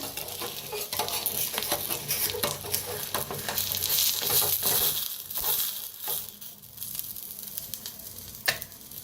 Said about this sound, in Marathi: अंडी बी छान अशी फ्राय व्हायला लागले ते आपली